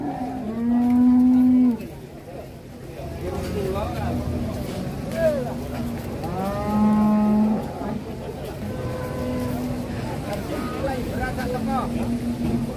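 Large cattle from the Merbabu slopes at a livestock market, giving two loud, drawn-out moos close by, with a busy murmur of voices and background noise around them.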